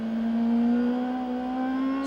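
An IndyCar CART race car engine holds a steady buzzing note that climbs slowly as the driver eases onto the throttle on a wet, rainy track, loud and continuous throughout.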